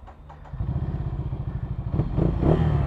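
Stock carbon-tip muffler of a 2023 Ducati Scrambler L-twin idling close by, a steady pulsing rumble that grows slightly louder and rougher toward the end, with a few light clatters early on.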